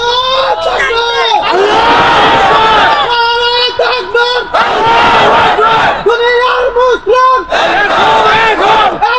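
A large crowd at an outdoor Bengali religious gathering shouts the takbir in unison, loud, chant-like calls repeated in several surging waves with brief pauses between them.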